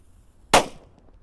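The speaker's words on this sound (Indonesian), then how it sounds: "Selanjutnya kita nyalakan mercon Gorilla di kubangan air." A Gorilla firecracker goes off in a water puddle: one sharp, loud bang that decays quickly into a brief splashy tail, with near silence before it.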